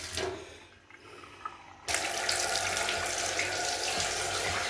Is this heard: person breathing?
no